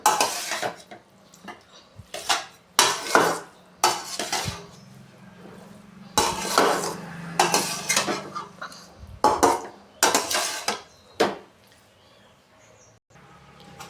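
Plain society rice for onion rice being spooned into a serving bowl, with repeated loud clinks and scrapes of dishes and cutlery in close, irregular bursts and quieter pauses between.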